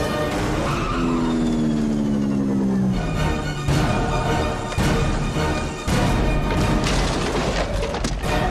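Vehicle chase scene from an Indian film, with a motorbike pursuing a container truck: loud sustained engine roar with a descending tire squeal early on, followed by repeated heavy thuds and impacts, dense and continuous throughout.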